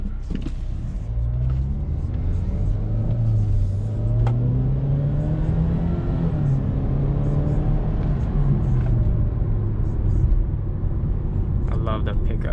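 Steady engine drone from a Jaguar XE Prestige heard from inside the cabin, rising gently as the car picks up speed, loud and continuous with road rumble underneath.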